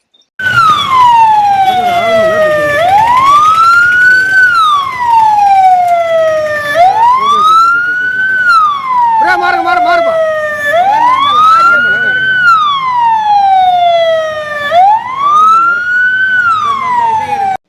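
An ambulance siren caught in a traffic jam on a narrow, crowded road in Munnar town, loud and close, wailing up and down in a steady repeating cycle for the whole stretch, with engine noise beneath it.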